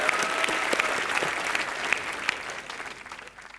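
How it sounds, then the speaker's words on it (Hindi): Audience applause for Bhatt sahab on a live comedy show stage, a dense burst of clapping that fills the clip and gradually thins toward the end. "भट्ट साहब के लिए एक बार जोरदार तालियां।"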